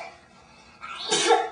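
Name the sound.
sneeze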